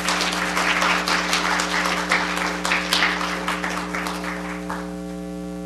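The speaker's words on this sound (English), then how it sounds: "Let's give our presenters another round of applause." Audience applause at a Holocaust Remembrance Day program, a room of people clapping steadily for about five seconds before it thins out, over a constant low electrical hum.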